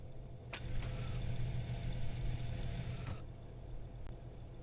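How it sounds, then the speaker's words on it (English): A Case Quadtrac 715 tractor engine in Farming Simulator 22 idles with a low, steady rumble, close and fairly quiet, broken by a few short clicks. "Listen to the sound of the engine."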